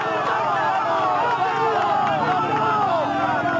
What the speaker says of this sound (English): The Spaniard Cobo with Asturian Spanish crowd.